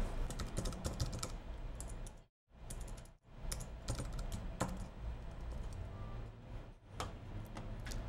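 Computer keyboard keys clatter in a steady run of quick clicks as a folder name is typed into a form, with two brief pauses in the middle.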